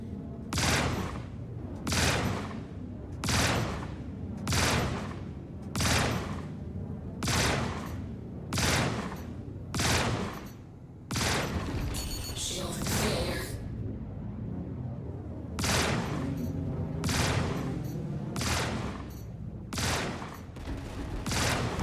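Heavy ship-mounted turret fire in the space game Star Citizen, a loud, steady barrage of booming blasts roughly once per second over a low rumbling hum, pausing briefly midway before the rhythmic volley resumes up close.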